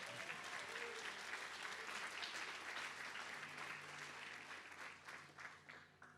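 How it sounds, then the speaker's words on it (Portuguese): Church congregation applauding together during an evening worship service, a dense, steady wash of clapping that holds strong throughout and begins to thin slightly near the end. "Vamos aplaudi-lo pelo seu cuidado."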